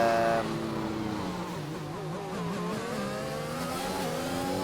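Race cars in a racing video game accelerate down a straight, with a loud, steady engine whine rising in pitch through the gears and a second car's tone layered underneath, no talk.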